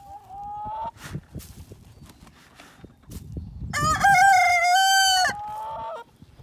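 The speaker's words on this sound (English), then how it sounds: "we're gonna leave those busy chickens to do busy chicken stuff" Chickens cluck nearby, and a rooster lets out a long, loud crow partway through. A brief higher call sounds first.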